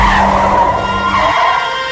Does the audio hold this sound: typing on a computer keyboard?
no